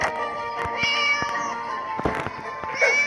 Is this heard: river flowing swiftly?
no